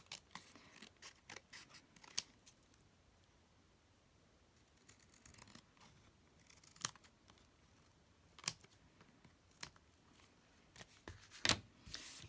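Scissors trimming off the extra paper edges of a handmade journaling card. Quiet, close snips come in irregular clusters, mixed with soft paper rustles and small handling sounds.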